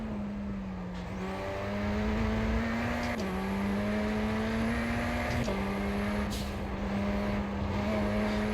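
Race car engines in the iRacing sim drone steadily and loudly throughout, their pitch rising and dipping with gear changes and shifts, without any talking.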